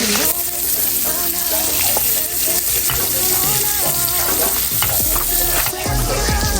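Brown sausage sizzling loudly in a pan as it is stirred, with close scraping and clattering of the utensil over a constant frying hiss.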